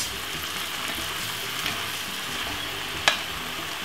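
Cabbage stir-fried with carrot and chopped tomato over medium heat, a steady close sizzle with a faint scrape of stirring and one sharp clink near the end.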